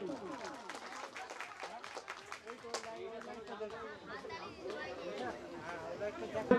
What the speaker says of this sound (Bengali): ওনার জন্য একটা হাততালি